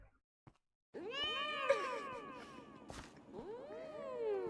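Several Minecraft cats meow in overlapping, rising-and-falling calls, loud and close, with brief quiet before they start and no talk.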